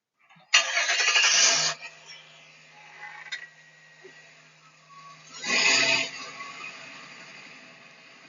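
A car engine cranks and starts with a loud burst, idles briefly, then revs again in a second surge before settling, heard alone without speech.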